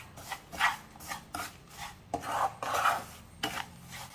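Fried onions being mixed into a rava upma premix with a spoon in a pan off the heat, giving repeated scraping and rubbing strokes in an uneven rhythm, close and moderately loud, with no talking.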